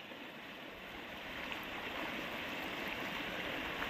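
Fast-flowing river water rushes in a steady, broad roar outdoors at a village picnic spot, a continuous wash with no talking.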